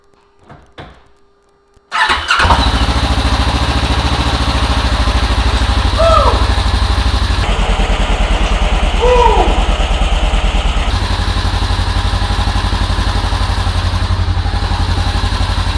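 After a brief moment of quiet, an engine fitted with a Kraftwerks supercharger cranks and fires up, then settles into a loud, steady idle with a faint rising whine, close by.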